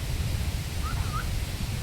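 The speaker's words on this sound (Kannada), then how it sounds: "ತುಂಬ ಗಾಳಿ ಆಯ್ತು ಸಮೀರ" Strong wind blows outdoors in a rural village, a steady low buffeting rumble that fills the whole stretch with no breaks.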